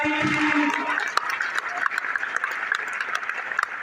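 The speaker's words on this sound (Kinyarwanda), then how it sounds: "Dukomere amashyi amen." A church congregation applauding during an Easter service: dense, continuous clapping from a large crowd, following a brief voice at the start and holding steady with occasional louder individual claps.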